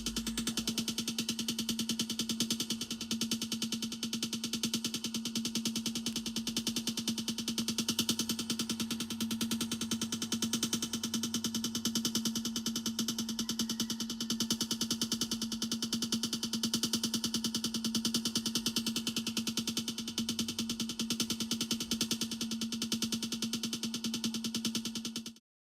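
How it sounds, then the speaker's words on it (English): Sonified spectral measurements of the distant galaxy UGC 7849, rendered as a continuous dense electronic drone with a steady mid-pitched tone and shimmering high texture, unchanging and alone throughout. "sonification, or the translation into sound parameters of a spectra or measurements of a distant galaxy"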